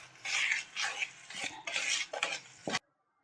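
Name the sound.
mixing butter and sugar in a bowl for semolina cake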